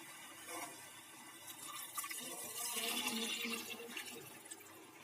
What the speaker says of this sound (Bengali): এবার জল দিয়ে দিয়েছি